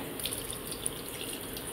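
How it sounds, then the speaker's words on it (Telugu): Water pours from a cup into a vessel, a soft continuous trickle close by. "కప్పు నీళ్లు పోసుకున్నాను"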